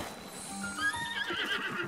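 A horse neighs in the video game Zelda: Breath of the Wild, a loud, close whinny with a rising, wavering pitch that lasts about two seconds alongside faint hoof clops.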